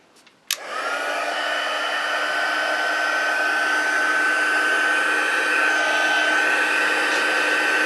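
After a sharp click, a heat tool whirs on and blows steadily for several seconds while melting embossing powder on a stamped card, a close, loud, even fan-and-heater hum.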